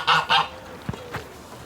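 Geese in a farmyard beside pig pens give two loud, close honks in quick succession, followed by a few fainter, shorter calls.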